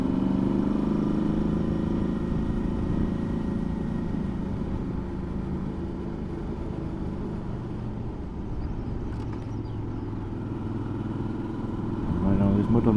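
A Suzuki V-Strom motorcycle is ridden at a steady pace on a scenic road, a loud continuous engine drone with constant road and wind rumble, close and unbroken throughout.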